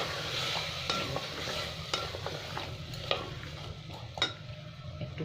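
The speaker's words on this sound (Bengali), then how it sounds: "একটু ভাজা হোক।" A potato curry mixture fries in a pan, with a soft continuous sizzle under repeated sharp scrapes and clicks of a spatula stirring against the metal at a slow, uneven pace.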